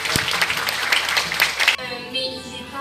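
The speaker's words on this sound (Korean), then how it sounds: "다시 한번 뜨거운 박수 부탁드립니다." Audience applause at a Korean cultural heritage ambassadors' launch ceremony, a dense burst of clapping that cuts off sharply after about two seconds, followed by a quieter tonal background.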